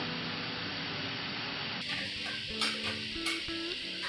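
Milk heats in a pan on the stove for a carrot sweet, a steady low sizzle and simmering hiss with a few light stirring scrapes and clinks joining partway through.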